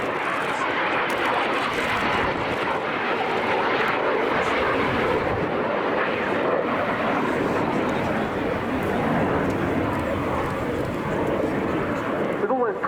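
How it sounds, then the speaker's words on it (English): A Messerschmitt ME-262 jet fighter with Junkers Jumo 004 engines roars past at an air show, a loud, sustained broadband rush of engine noise that holds steady for the whole pass, with a voice speaking over it. "In for its first pass, the remarkable shape of the ME-262."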